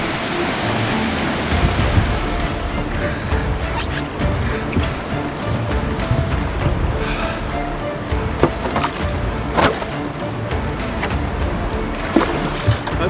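Large, dangerous waterfall in an Arctic wilderness river with rocks, heard as a continuous broadband roar of rushing water, loud and steady, with splashes and clatter nearby.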